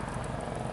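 A low, continuous helicopter drone hums overhead at moderate volume throughout, steady and unbroken, with no speech over it.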